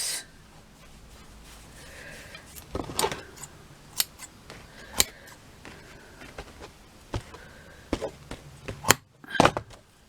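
Scissors trim fabric for a sitting shelf doll, giving sharp isolated snips spaced irregularly, close up over a quiet background, with a quick cluster of cuts near the end.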